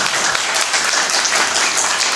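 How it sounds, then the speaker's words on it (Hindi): An audience at an all-India Hindi poetry gathering in Indirapuram claps together, giving steady, dense applause from many hands throughout, loud and close with no break. "एक बार एक स्वर में तालियों से समर्थन कर हमें अपना आशीर्वाद प्रदान करें"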